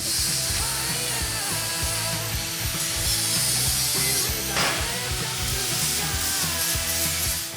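Metal being ground down during a Toyota Tacoma truck build, a loud, continuous, close-up grinding roar with a rough, rhythmic churn that runs steadily for the whole stretch.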